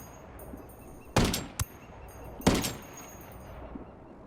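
Two sharp M110 sniper rifle shots fired in Ghost Recon Wildlands, each a loud cracking report with a brief tail, spaced over a second apart above a low ambient bed, with a small thud between them.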